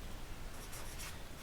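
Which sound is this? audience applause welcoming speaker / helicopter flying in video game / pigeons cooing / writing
writing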